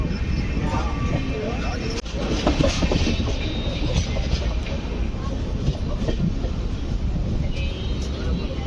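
The Kaghaznagar SF Express rolling into Jangaon station, a loud continuous rumble of wheels and carriages with rattling clatter, heard close from on board for the whole stretch.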